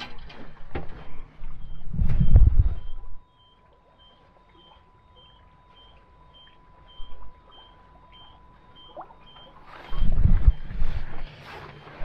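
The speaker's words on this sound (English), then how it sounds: "We have an alarm going off somewhere, and we have no idea where the alarm is." An alarm aboard a steel sailboat beeps in a faint, regular series while the engine is off, under a thin steady tone and between louder bursts of wind and handling noise.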